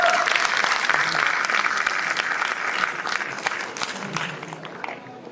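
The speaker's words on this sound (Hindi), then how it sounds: "एक बार फिर से आप तालियां बजा दीजिए।" An audience claps at a Hindi poetry gathering, a full, steady round of applause from many hands that gradually softens toward the end, with faint voices mixed in.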